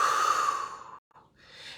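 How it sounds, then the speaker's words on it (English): A single long breath blown out through the mouth, close and breathy, fading to a brief silence before a softer second exhale begins. "and breathe out in 2 ways"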